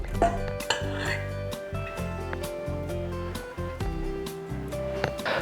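Dough is stirred in a bowl, made from boiled potatoes, flour and a pinch of salt, with a spoon scraping and clinking against the bowl in steady, uneven strokes close by, no talking.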